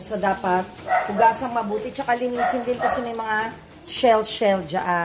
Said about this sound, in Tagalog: ayun ang ingay ng aso namin